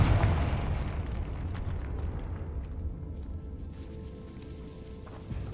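A Confringo fire spell explodes in the video game Hogwarts Legacy, a loud low boom that rumbles and slowly fades over several seconds, with no talk.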